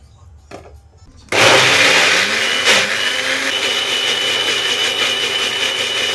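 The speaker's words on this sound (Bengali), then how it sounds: "এরপর এটাকে ব্লেন্ড করে নেবো" A kitchen blender starts abruptly after a soft clatter and runs loud and steady, whirring through a mixture with milk powder at close range until the end, with no speech.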